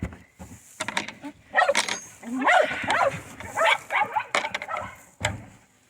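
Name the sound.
dogs barking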